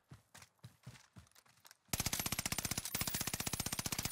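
Warzone gunfire opens with a few spaced, sharp single shots, then breaks into a loud, sustained burst of rapid automatic fire that rattles steadily to the end.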